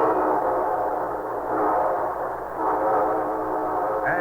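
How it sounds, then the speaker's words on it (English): A steam-train sound effect on a 1953 railroad-sponsored radio show: a sustained, loud rumble of chugging and whistle-like tones running steadily throughout, with no talking. "And here comes our star-studded show train."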